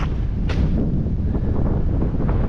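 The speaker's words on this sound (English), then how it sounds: "Definitely windier over here." Strong wind blows across a lake during a winter blizzard, a loud, constant rumbling roar buffeting the microphone, with a sharp gust near the start.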